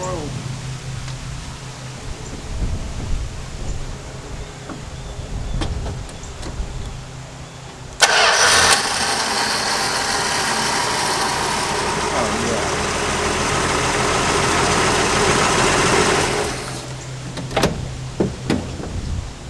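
An old Charger with a 225 engine and a three-on-the-tree column shift turns over and runs for several seconds with a rough, hissy roar, then cuts out abruptly. Quiet shuffling and knocks come before and after.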